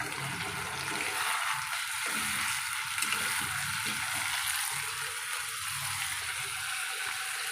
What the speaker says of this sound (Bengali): অল্প একটু জল দেবো।